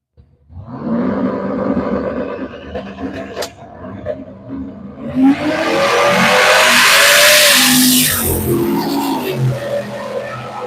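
A drag racing car at a motorsports park launches and accelerates hard down the track, its engine swelling from a rough rumble into a loud, sustained roar that fades slightly at the end, with a voice faintly underneath.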